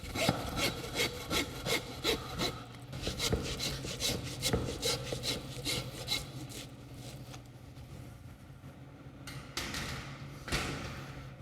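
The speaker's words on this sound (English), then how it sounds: "We'll go ahead and cut through that with the handsaw." A handsaw cuts through beef rib bones in a butchery session, with rhythmic rasping back-and-forth strokes, fast at first and then slowing and thinning out, close and fairly quiet.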